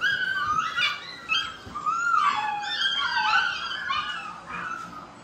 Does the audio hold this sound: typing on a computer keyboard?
no